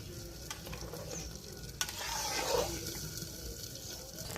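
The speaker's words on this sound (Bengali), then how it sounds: "এবার ভালো মতো নেড়ে চেড়ে ঢাকনা দিয়ে ঢেকে রেখে দেব।" A pot of chicken biryani being stirred, with soft scraping and wet sizzling over a constant bubbling hiss, close and fairly quiet, with no talking.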